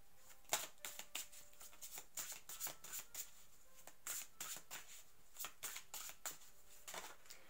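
Oracle cards are shuffled by hand in quiet, soft rapid riffles and flicks repeating in short bursts, close and fairly faint with no talking.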